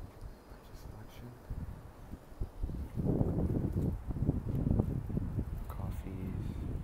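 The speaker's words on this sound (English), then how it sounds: "Sorry, it's kind of windy out here." Wind buffets the microphone outdoors on a street in Azabu-Jūban, Tokyo, in low rumbling gusts, growing stronger midway, with a person talking over it.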